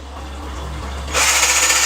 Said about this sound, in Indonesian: kayunya kita bor langsung guys